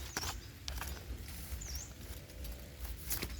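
Rain falls outdoors during mushroom picking, a steady faint patter running throughout with scattered sharper taps and one brief high chirp.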